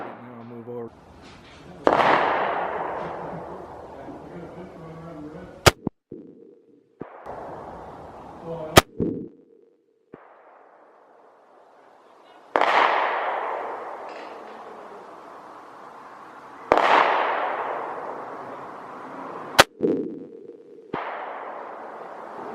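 Several sharp, loud test shots from a Smith & Wesson M&P 10 rifle at target practice, isolated cracks spaced seconds apart, each followed by a long echoing decay, with talking between shots.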